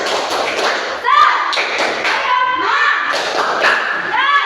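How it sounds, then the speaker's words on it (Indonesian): A classroom group of children does a rhythmic clapping cheer for teams one and two, with steady beats and shouted voices, loud and close. "Kasih tepuk semangat buat kelompok 1 dan 2"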